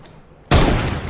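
Gunfire in the video game Fortnite: after a brief quiet moment, a sudden loud blast of shots bursts in and rings on densely to the end.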